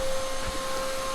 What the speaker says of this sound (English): We've got the new vacuum.